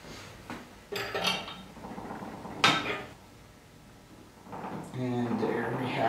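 A 7/8 inch wrench handled during hose reel assembly: metallic clinks and clatters, a couple of sharp knocks and a brief ratcheting rattle, close by, with someone talking throughout.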